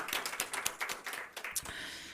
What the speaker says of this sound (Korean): 우리 하나님께 다시 한번 영광의 박수 올립시다.